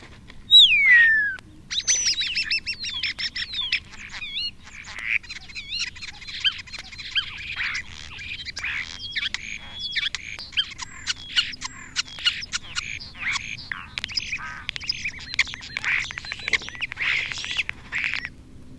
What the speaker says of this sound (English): Starling songs are regular in every month of the year